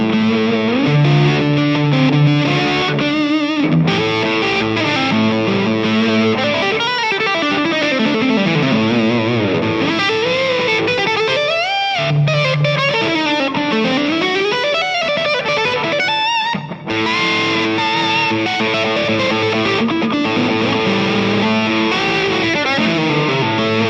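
An Alesis Microverb III rack reverb unit processing a distorted instrument signal, giving a loud, continuous wash of gritty sustained tones with shifting pitches and smeared decay, playing alone without voices.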